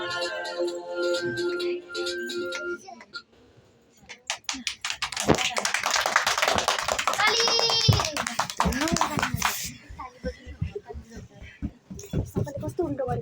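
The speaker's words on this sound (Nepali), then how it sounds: "अलिक ताली पुगेन" Rhythmic hand clapping keeps time for a Christmas dance at home, bursts of sharp claps mixed with singing and children's voices, rising into a busy stretch of claps and chatter before thinning out.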